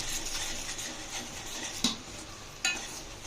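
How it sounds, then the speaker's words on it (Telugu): Ginger garlic paste frying in a pan for prawn pickle makes a dense, steady sizzle up close, with two sharp clinks of a spoon against the pan and no speech. "2 స్పూన్స్ జింజర్ గార్లిక్ పేస్ట్ అండి. ఓకే, పచ్చివాసన పోయేంత వరకు వేయించుకోవాలి"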